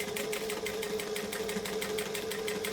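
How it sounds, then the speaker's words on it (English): A sewing machine runs steadily while chain stitching a piping seam, a continuous close mechanical whir with a fast, even needle rhythm and no pauses. "I'm going to chain stitch the next one on."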